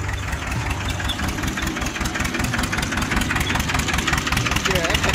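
An old HMT 2511 tractor engine runs steadily at a farm, a continuous mid-to-low chugging drone with a rapid knocking pulse, loud and close throughout.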